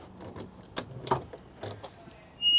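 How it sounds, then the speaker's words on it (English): Keys jangle and clack against the trunk lock of a 1965 Ford Mustang convertible, a few short close metallic rattles and clicks, ending in a louder burst as the lid releases. "I've got some keys. Let's check out the trunk."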